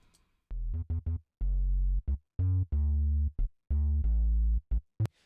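A duplicated deep sub bass layer with its highest overtones low-passed plays a short rhythmic run of rounded notes, some clipped short and others held, moderately quiet and alone.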